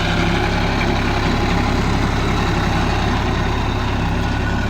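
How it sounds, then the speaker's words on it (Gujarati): A Massey tractor engine running steadily while sowing ajwain in a field, a loud, continuous low diesel drone close by, with no break or change in pitch. "જોઈ લો આપણું ટ્રેક્ટર મેસી"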